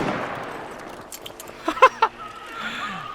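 Gunfire in the video game The Finals comes as a few sharp, brief shots in quick succession, standing out from a low wash of game ambience.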